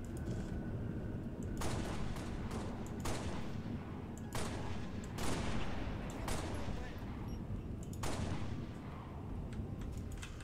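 Repeated bursts of gunfire in Halo: Reach, several separated shots or short volleys over a steady noisy background, fairly loud throughout.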